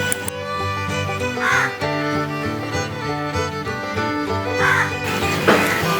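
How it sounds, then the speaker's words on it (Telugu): Crows caw repeatedly outdoors on a rainy morning, loud harsh calls overlapping in a steady chorus that keeps going without pause. "ఈ కాకులు అరుస్తూనే ఉన్నాయి"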